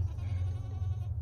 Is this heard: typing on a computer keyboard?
no